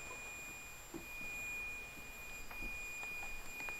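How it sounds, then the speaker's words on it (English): A steady high electronic tone from a paranormal investigation device or alarm holds through the whole stretch, joined by a few faint chirps over a quiet, hissy room background. "Alarm now."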